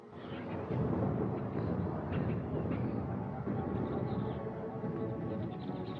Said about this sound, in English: Something strange about all this rain. The lightning's been going crazy, too.